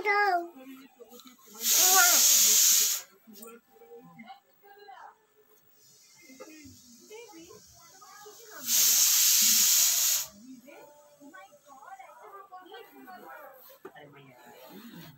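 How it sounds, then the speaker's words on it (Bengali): Cauliflower fritters fry in hot oil, giving two loud bursts of hiss a few seconds each, with a child and an adult talking in between. "অনেকটা ভাজা হয়ে গেল ফুলকপি বড়া।"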